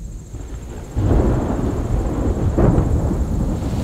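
A thunderstorm arrives over a camp with a cheap trekking pole tent, a deep rumble of thunder rolling in and swelling alongside gusting wind that buffets the microphone, loud and sustained.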